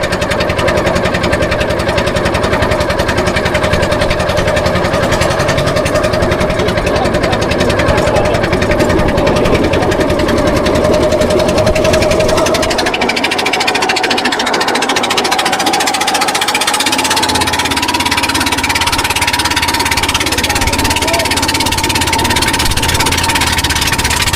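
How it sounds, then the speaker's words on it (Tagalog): Steady droning of two motorboat engines running continuously, loud and close, with a tonal hum that shifts pitch partway through; no talking. "Dalawa makina. Dalawa makina."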